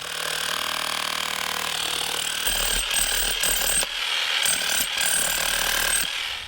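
A hammer drill chisels in a garage, a harsh rapid mechanical rattle in several bursts separated by brief pauses, loud and close with no talk.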